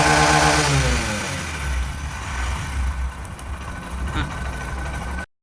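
A Honda SP 125 motorcycle engine with a fuel pump fault runs on a fuel pump tester, with its wiring kit bypassed; a steady, close idle drone holds for about five seconds and then cuts off abruptly.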